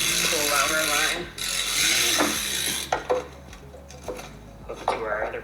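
Rapid metallic clicking and rattling as a Rhino ratchet strap is hooked up and cranked tight, with bursts of ratcheting and short pauses between, heard close and under a person talking.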